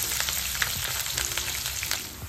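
Onion frying in oil for a Kerala-style chicken masala dish, giving a steady close sizzle with light stirring crackles over a short stretch, no talk.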